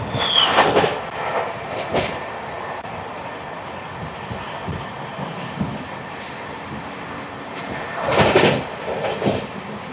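Aronai Express passenger train running nearby, a steady rumbling roar with rail clatter and a few louder swells, heard from close alongside the track.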